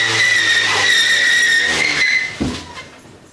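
A car skids across the surface with a loud, sustained tire squeal lasting a couple of seconds before a short thump and a fading tail, with no talk over it.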